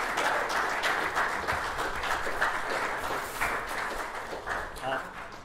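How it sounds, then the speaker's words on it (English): A room full of people at a school sixth form prize giving applauds steadily, the clapping continuous and fairly loud throughout, easing slightly toward the end. "So a round of applause for Kayla"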